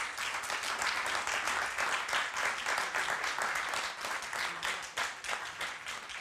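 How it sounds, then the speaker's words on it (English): A conference audience gives the farmers a steady round of applause, with dense clapping that carries evenly and stays fairly soft. "Let's give a big round of applause to our farmers."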